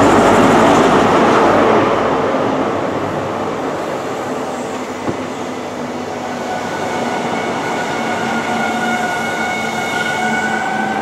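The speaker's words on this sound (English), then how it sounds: "This is the new GWR HST set." New GWR HST train set pulling into Newton Abbot station, a loud rumble easing as it slows, then steady rolling with a high whining tone rising over the passing carriages.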